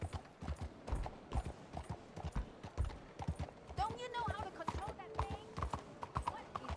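Horse hooves clip-clop at a steady trot in Red Dead Redemption 2, close and continuous, with a brief whinny midway and someone talking in German over the rhythmic hoofbeats.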